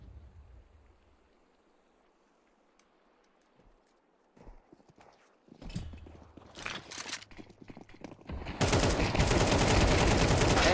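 Gunfire in a Counter-Strike match from the ESL Challenger League: quiet footsteps and a few scattered shots build into loud, close, sustained automatic fire over the final seconds.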